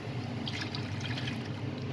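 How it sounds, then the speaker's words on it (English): About 300 ml of water is poured into a 700 ml jar to rinse it out, a steady, close trickle and splash that continues evenly from start to finish. "I'll just add a bit of water to wash the jar out"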